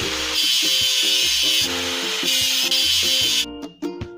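Rust is stripped from a machine in a children's tractor video game, giving a loud continuous grinding, power-tool-like hiss over a repeating electronic melody, which cuts out near the end.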